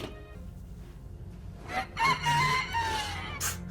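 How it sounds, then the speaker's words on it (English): A rooster heard in The Book of Boba Fett episode "Return of the Mandalorian" lets out one short, fairly loud crow in the second half, with a quiet hum and rustle beforehand. "It's a rooster."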